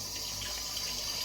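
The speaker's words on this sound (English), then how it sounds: "We'll rinse off with cold water." Cold tap water runs steadily in a sink for rinsing, a close, even gushing hiss with no break and no voices.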